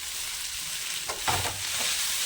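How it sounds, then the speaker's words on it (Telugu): Gongura leaves frying in a small amount of oil in a pan, giving a steady sizzle with a brief louder stirring burst partway through. "గోంగూర కూడా ఈ విధంగా కొద్దిగా ఎక్కువ కాకుండా కొంచెం ఆయిల్ వేసుకొని వేసుకోవాలండి"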